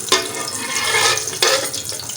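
Tinda gourd masala roasting in a pan gives a steady broadband sizzle close by, with two brief splashy surges as the mixture is moved; no voices.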